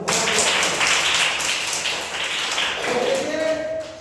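Children in a classroom clap together in a loud burst of sharp, overlapping claps that continues for about four seconds, with some voices mixed in.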